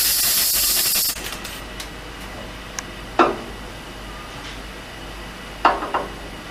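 Aerosol brake parts cleaner sprays in a steady loud hiss during a flammability test, cutting off after about a second, followed by a few sharp clanks and thumps in a quiet room.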